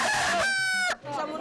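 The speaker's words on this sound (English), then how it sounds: "It's got a very loud crow." A fighting rooster lets out a loud, close crow, one long drawn-out harmonic call that cuts off sharply, then a few softer clucks and rustling after it.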